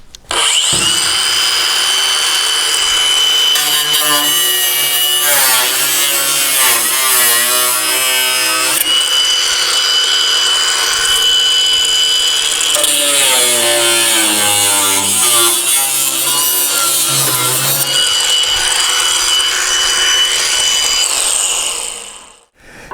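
A power tool cuts a small metal brace out of a 1955-59 Chevy truck cab, a sustained, loud, whining buzz close by that rises and falls in pitch as the cut bites and eases, with no talking.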